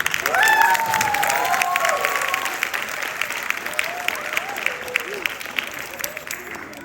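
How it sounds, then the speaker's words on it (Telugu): Audience at a Telugu comedy skit performance for NATA 2025 applauding after the skit; a steady wash of clapping from a crowd, with a voice faintly heard over the start. "మీకు నచ్చితే ఒకసారి పెద్దగా క్లాప్స్ ఇవ్వండి"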